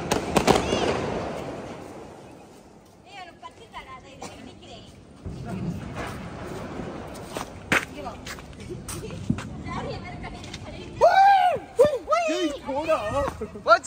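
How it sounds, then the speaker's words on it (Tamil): At a Deepavali night celebration, rocket fireworks whoosh up and pop amid scattered crackers. Excited voices chatter and shout close by, and a loud burst comes near the end. "இப்ப பாரு நான் விடுற ராக்கெட்."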